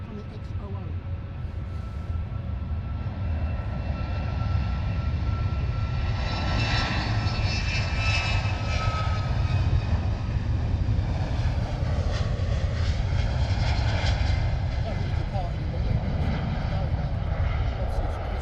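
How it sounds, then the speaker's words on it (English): A Boeing 737 jet takes off at London Luton Airport, UK, its engines roaring loud and steady throughout, swelling slightly as the aircraft climbs, while a person talks over the noise. "Hopefully nice and loud from the Boeing 737 for you."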